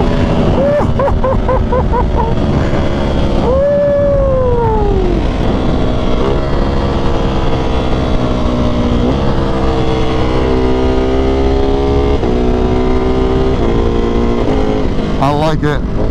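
A 2023 Ducati Panigale V4R superbike engine running steadily during a ride, with loud sustained engine drone, rising and falling pitch sweeps as it revs and shifts, and wind noise throughout.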